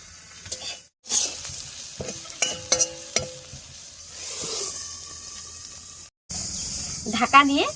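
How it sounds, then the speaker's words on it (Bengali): Potatoes with turmeric and salt frying in a covered pan for a bitter gourd dish, giving a steady sizzle and hiss broken by spoon clinks and two short silences, with a brief voice near the end. "আর এতে করে আলুগুলো ভাজাও হবে আর অনেকটা সেদ্ধ হয়ে যাবে।"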